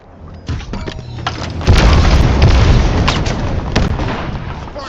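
Rocket blast in an online shooter's hill-control match, a loud booming explosion with sharp pops, followed by a sustained rumbling roar of gunfire and impacts close by.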